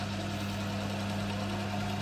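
A rotational viscometer motor spinning at 600 rpm in a lab hums steadily and continuously, with a low droning tone and no pauses throughout.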